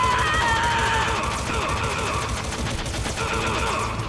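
Gunfire in the stealth action game Metal Gear Solid, a dense, steady burst of shots and clatter running the whole few seconds under game sound effects, loud and close.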